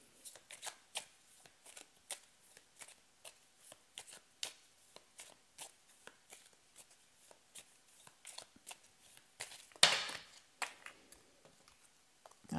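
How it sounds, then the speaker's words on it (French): Tarot cards shuffled by hand give quiet, close, irregular riffling taps, then a louder flurry near the end as some cards spill and fall. "j'ai trop de cartes qui sont tombées"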